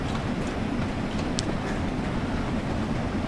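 A steam locomotive similar to the LMS Stanier class running, heard as a loud, continuous broadband rumble and rattle that holds steady throughout, with no talk.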